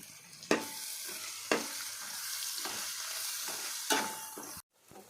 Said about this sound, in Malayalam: ഒരു സ്പൂൺ മഞ്ഞൾപ്പൊടി നമ്മൾ ചേർക്കണം എന്നിട്ട് ഇളക്കി കൊടുക്കണം